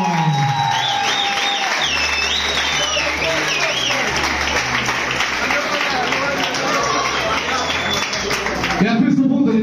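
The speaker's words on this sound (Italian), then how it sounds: "E ancora una volta per Roberto Lippi!" A live audience at a birthday show claps and cheers for Roberto Lippi, with dense, sustained applause and scattered whoops filling the room before it fades near the end.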